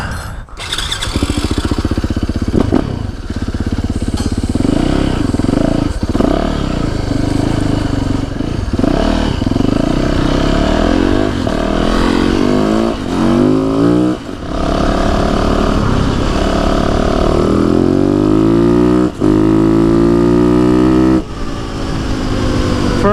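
A Yamaha YZ450FX dirt bike rides a woods trail, its engine loud and close with continuous revving that climbs and drops through gear changes for the whole stretch.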